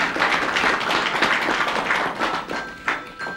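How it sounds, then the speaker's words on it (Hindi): A group claps loudly and steadily in a dense, continuous round of applause that fills the room, with a few sharper claps and thumps standing out near the end. "अब आप लोग जोरदार तालियां राजेश के लिए बजाइए"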